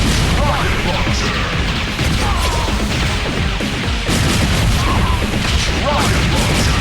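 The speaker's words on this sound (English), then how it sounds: "Rocket launcher." Rocket launcher fire in the Metal Slug mobile video game, set in a desert city stage, heard as a dense, loud, continuous barrage of blasts and crashes with game effects throughout.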